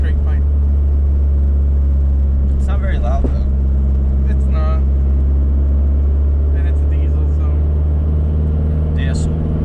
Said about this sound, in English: Oh, and the car's also straight pipe. It's not very loud though.